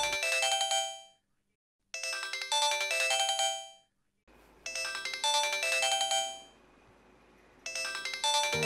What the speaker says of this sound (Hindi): कब से कॉल्स कर रहा हूँ, तुम्हें फोन क्यों नहीं उठा रही थी